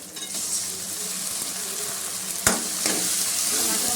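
Onions and tomato frying with spices in a pan for whole masoor dal, a steady close sizzle with a sharp crackle burst midway, occasional stirring scrapes throughout.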